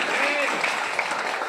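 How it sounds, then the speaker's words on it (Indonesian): Applause from an audience of trainee interns heading to Japan for work, a dense patter of clapping with a voice talking over it near the start. "Tepuk tangan untuk kita."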